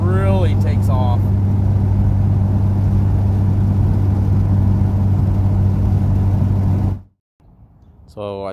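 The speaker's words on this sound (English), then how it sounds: "I hope you guys enjoyed that rolling anti-lag" A Mitsubishi Evo 8 with Fueltech engine management and nitrous accelerates on rolling anti-lag, a loud, deep, continuous engine roar that holds steady for about seven seconds before cutting off abruptly.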